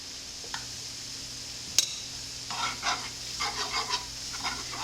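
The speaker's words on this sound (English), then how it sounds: "I'm gonna let it like kind of cook for just a little bit, so we cook that like flour taste out of it" Flour roux for gravy cooking in a pan, a faint sizzle with a single sharp clink and then several soft scraping stirs, close and quiet.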